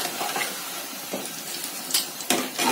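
Raw banana slices fry in hot oil in a kadhai with a constant bubbling sizzle, broken by a few brief crackles and spatters toward the end.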